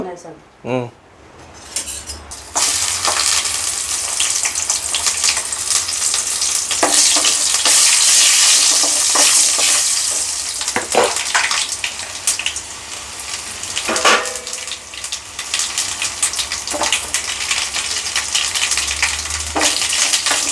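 Tempering of garlic, curry leaves, chilies, cumin and mustard seeds dropped into hot oil for dal, bursting into a loud, sustained crackling sizzle with spoon clinks and pan scrapes, and voices talking over it.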